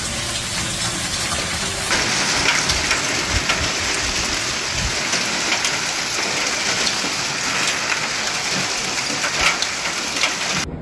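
Heavy storm rain pours in southwestern France, a loud, dense, continuous roar of drops hammering surfaces, with low rumbles beneath and no voices throughout.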